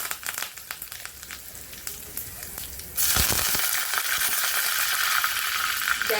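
Curry leaves and cumin seeds dropped into a tablespoon of hot oil during tempering for stuffed crab. A sudden loud, bright sizzle bursts in midway after quieter kitchen rustling and keeps crackling steadily to the end.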